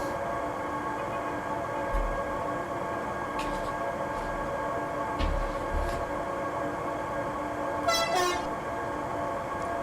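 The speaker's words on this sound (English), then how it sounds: "Same horn. It's not bad." Train horn sounding in the rail simulation game Transport Fever 2, a short tonal toot near the end over a steady background rumble of moving trains, with a few faint clanks earlier.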